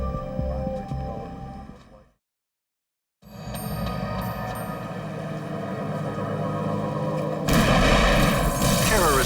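Terrorist bomb blasts at a consulate in a reenactment: rumbling booms and cracking detonations with a thick roar, broken by a second of silence before heavier, sustained blasting resumes, loud and dense.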